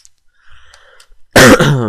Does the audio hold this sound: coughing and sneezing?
yes